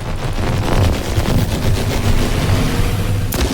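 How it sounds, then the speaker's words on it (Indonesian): Automatic weapon fire in the video game The Last Caretaker, a loud dense rattle of rapid shots lasting several seconds over a steady rumbling background. "Oke, kita tembak dulu aja."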